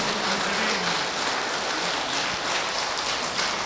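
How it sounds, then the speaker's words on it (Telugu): A rally crowd in Adilabad claps loudly and steadily, a dense wash of applause filling the whole stretch without pause or talk. "శాకాహార జగత్కి గట్టిగా చప్పట్లు కొడదాం"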